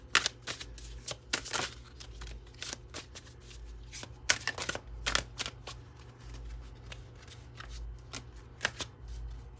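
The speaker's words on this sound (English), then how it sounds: "A lot of your cards are just flipping right out" Tarot cards being shuffled up close: quick riffling bursts and soft slaps in an irregular rhythm, with some cards flipping loose, over quiet room hum.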